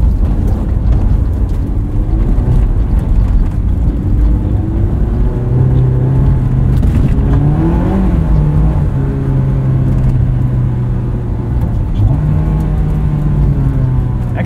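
A 2001 Honda S2000 driving on snowy winter roads, heard from inside as a loud continuous engine drone with gear-linked pitch swells and a steady road rumble throughout.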